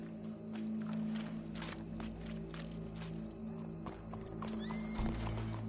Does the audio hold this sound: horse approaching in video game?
yes